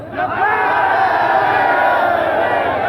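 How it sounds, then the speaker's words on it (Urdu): Political rally crowd shouting a slogan together, a loud, massed roar of voices that swells in quickly and holds steady for a few seconds. "تالی نہیں مارنی، نعرہ مارنا۔"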